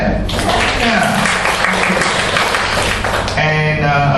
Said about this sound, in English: she deserves a clap